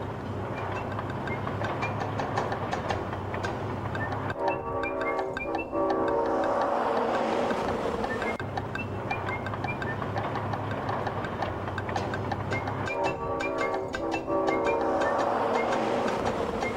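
A train rolls along the rails with a steady low engine rumble and metallic rail noise, pulsing in long, repeating surges as it moves off at a moderate distance.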